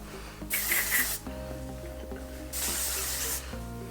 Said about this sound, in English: And then finish it off with a bit of hairspray.